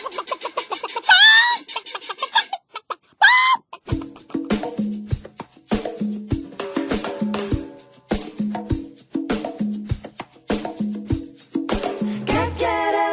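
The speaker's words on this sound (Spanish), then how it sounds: "Come gallinas." Hens cluck in a steady, rhythmic string of short throaty calls during a children's radio show about a hen-eating wolf, with a couple of higher, drawn-out crow-like calls at the start; close and loud, with no speech.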